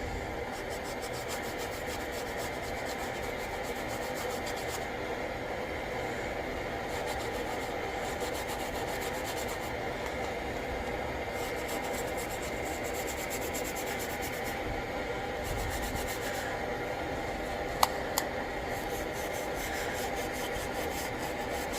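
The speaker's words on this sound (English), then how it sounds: "I'm going to rub some of that roughest rust off there." A small ball of steel wool scrubs rough rust off a metal surface, a steady close rasping rub that continues without pause, with one brief sharp click near the end.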